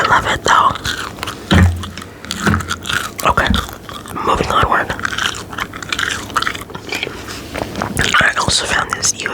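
Gum chewing up close for ASMR, with wet smacking, crunching bites and soft mouth clicks that come in irregular bursts right at the microphone, along with faint whispering.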